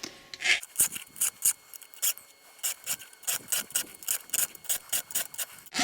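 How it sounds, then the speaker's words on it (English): A hand file sharpens chainsaw teeth in a steady rhythm of close, rasping strokes, each push and pull giving a gritty scrape, repeated about a dozen times without speech. "I'm pushing with this hand at the proper angle, and I'm trying to sharpen that tooth to a really sharp point"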